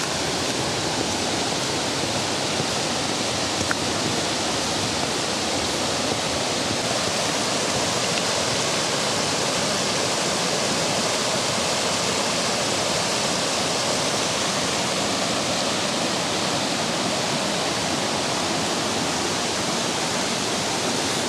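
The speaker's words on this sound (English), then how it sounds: "And we're just following the river." A river along a Pocono Mountains trail in fall rushes steadily, a dense, continuous broadband wash of flowing water that stays loud and even throughout with no voices.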